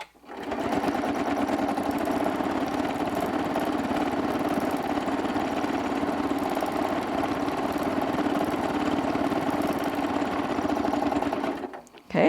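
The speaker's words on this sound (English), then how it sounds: "So you just quilt swirls along in that border or sashing area" A sewing machine runs continuously and fast while free-motion quilting swirls along a narrow quilt border, a loud, even mechanical whir that lasts nearly the whole stretch before stopping abruptly.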